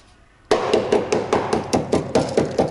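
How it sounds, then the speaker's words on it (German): A hammer strikes the sheet metal of a Chevrolet Camaro IROC-Z, about ten loud, sharp metallic blows in a fairly steady rhythm, close up after a brief quiet start. "Ich hol mal den Hammer."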